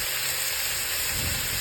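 Grated coconut frying in a pan for Kerala beef curry as sliced onion goes in, a loud continuous hissing sizzle with a brief lower rustle toward the end, no talking.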